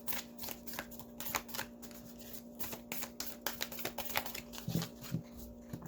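A deck of tarot cards is shuffled close by in a quiet room, with soft rapid riffling and flicking of card edges in uneven bursts, faint overall.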